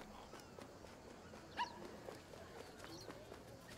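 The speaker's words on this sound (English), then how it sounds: "I think I hear a doggo." A single dog bark rings out at a distance in the wildlife video game Alba: A Wildlife Adventure, brief and faint over quiet outdoor ambience, with a possible softer second call shortly after.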